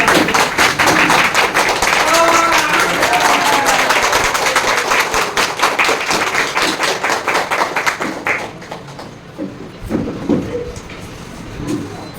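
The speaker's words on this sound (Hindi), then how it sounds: "सभी लोग एक बार खड़े होकर के उनकी सम्मान तालियों के साथ" A standing audience at an RCM business meeting claps to welcome Pramod Maurya, a loud, dense burst of applause that holds steady for several seconds, then thins and fades to scattered claps, with faint voices underneath.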